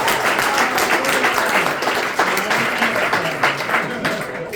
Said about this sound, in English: Let's give our best man a round of applause.